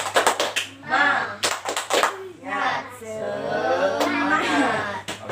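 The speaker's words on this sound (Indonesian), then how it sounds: "Kita akan melakukan tepuk semangat." Classroom of children at an elementary school performing the tepuk semangat clapping chant, sharp rhythmic clap bursts alternating with chanted voices as an adult leads, close and lively.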